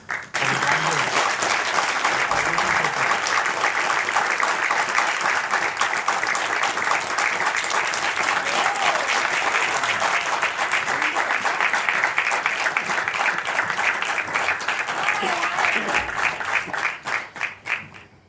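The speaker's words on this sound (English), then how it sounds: "Applause was not loud enough for the candidates." Sustained, loud audience clapping at a Clensta startup press meet, steady and dense for about seventeen seconds before tapering off at the end.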